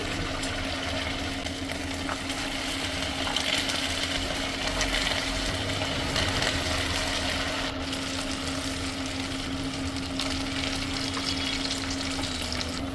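Pieces of food sizzling steadily in hot olive oil in a pan, a continuous dense crackling frying sound at close range with a low steady hum beneath, no talking.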